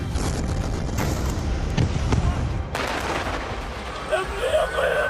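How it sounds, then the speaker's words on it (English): Airstrike explosions over Gaza: heavy, rolling booms and thuds stack into a dense, loud rumble, with a sharp blast partway through and fainter crackling and distant noise after it. "Tonight, Israel retaliates with airstrikes on Gaza."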